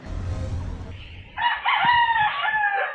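A fighting rooster crows once, loud and close, after a stretch of low rumbling background noise.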